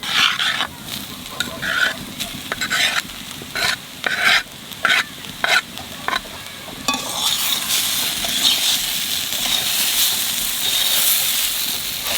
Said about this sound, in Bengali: এখানে পেঁয়াজ কলি দিয়ে একটু নাড়াচাড়া দিয়েই নামাই দেবো।